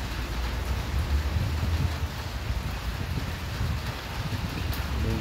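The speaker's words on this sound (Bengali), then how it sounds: "অনেক বৃষ্টি পড়তেছে।" Heavy rain pours down in Qatar with gusting wind, a steady dense hiss and rumble that continues throughout, without any voices.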